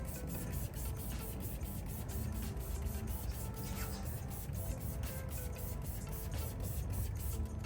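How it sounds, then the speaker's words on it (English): A spray bottle misting rinseless wash onto a car panel outdoors in the sun, heard as a steady run of rapid, evenly spaced hissing sprays that stay loud and constant throughout, with no talking. "You get your spray bottle and you start spraying the panel down."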